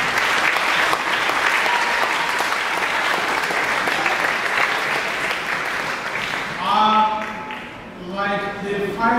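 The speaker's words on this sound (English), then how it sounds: "Please, I want you to join me to applaud them" Graduation ceremony audience applauding past students with steady, full clapping that persists for several seconds before tapering as a voice begins speaking.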